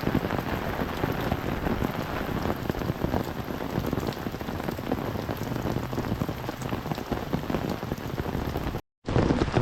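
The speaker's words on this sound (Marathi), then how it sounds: "तरी पण निघतोय पाऊस जोरातच" Heavy rain pours steadily and loudly, a dense continuous roar of drops hitting surfaces, with a brief silent gap near the end.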